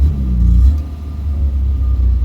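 Vauxhall Viva barn-find car engine with a carburettor flat spot, a loud close rumbling idle that rises into a hesitant rev and then sags and steadies again, with no talk.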